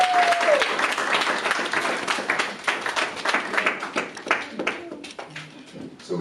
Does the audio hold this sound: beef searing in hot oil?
no